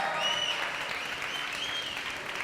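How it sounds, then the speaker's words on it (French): Audience applause for two athletes at the Open Reunion Island event, a steady wash of clapping at moderate distance, fairly soft and continuous throughout with a few faint voices mixed in. "Public, on peut l'applaudir."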